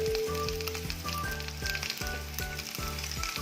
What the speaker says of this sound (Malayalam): ആ ഒരു ഭാഗം കൂടി ബട്ടറിൽ കിടന്ന് നന്നായിട്ടൊന്ന് ഫ്രൈ ആയി വരണം.